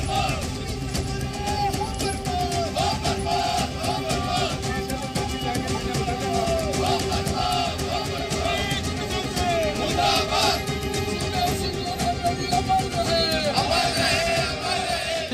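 A large crowd of protesters at a sit-in over a murder, a dense, steady roar of many voices with occasional shouts, loud and continuous throughout.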